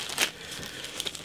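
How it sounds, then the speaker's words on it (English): A plastic bag crinkles in two quick, crisp bursts as a sheet of model-kit decals is pulled from it, close and fairly quiet, with no talking. "I will just take the decals out of the bag"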